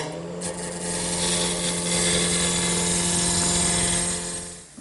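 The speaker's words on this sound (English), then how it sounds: "First thing I want to do is round over this blank with my gouge." Gouge cutting a spinning wood blank on a lathe, rounding it over: a steady, loud, continuous rasping and scraping over a constant motor hum, sustained throughout with no talking.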